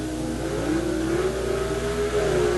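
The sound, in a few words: Corvette drag race launch at NHRA World Finals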